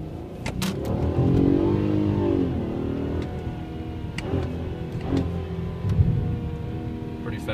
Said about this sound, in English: I'm gonna put this in sport mode because I feel I got a lot of takeoff here.